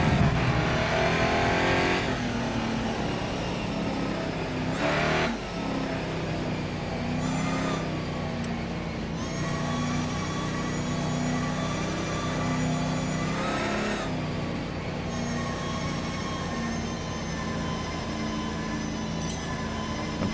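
Holden Commodore V8 engine and gearbox in the racing game Grid Autosport, heard from the cockpit: a steady, loud engine drone with several brief breaks where gears change, running throughout with no talk.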